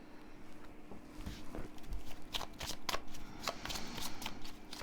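Oracle cards being shuffled by hand during a sun-oracle reading, a run of soft rapid riffling flicks and papery slaps, close and fairly quiet, with no talking.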